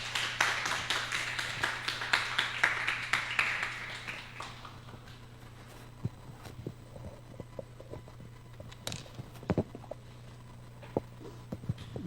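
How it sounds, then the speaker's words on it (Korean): A church congregation claps to welcome a pastor, a fairly soft crowd patter that fills the first few seconds and then fades out, leaving a low hum and scattered small knocks and footsteps. "박수로 환영해 주시기 바랍니다."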